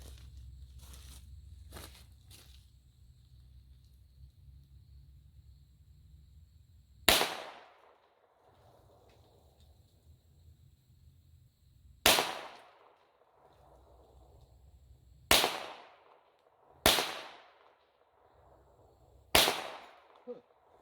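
Five sharp, loud .22 pistol shots from a 2006 Smith & Wesson 22A-1 fired at cans outdoors, spaced irregularly a few seconds apart, each a crisp crack with a short decaying tail over a faint low hum.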